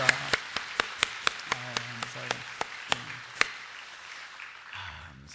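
A church congregation clapping in blessing for its members, a series of sharp, spaced claps near the microphone at a steady rhythm that trail off into quiet room sound, with a low voice and hum underneath.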